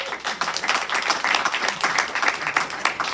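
Audience at a school state-of-the-school address breaks into applause, a sustained patter of many hands clapping at close to moderate distance, with a faint voice mixed in.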